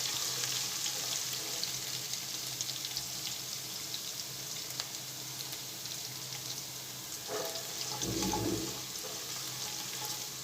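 Green chillies and ginger sauté in hot oil in a pan, giving a steady, close sizzle that runs throughout with a brief bubbling burst near the end and no talking.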